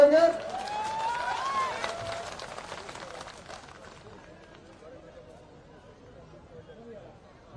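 A rally crowd claps and cheers to welcome a speaker, a dense burst of applause with shouting that is loudest at the start and fades over several seconds into a murmuring crowd.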